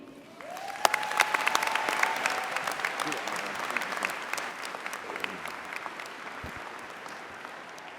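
An audience claps and cheers to welcome a keynote speaker at a university commencement, a warm swell of applause with a whistle near the start that fades gradually over several seconds.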